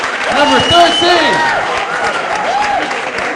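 A comedy-show audience claps and cheers loudly for a performer called to the stage, a dense wash of applause with whoops and shouts, while a host's voice carries over it.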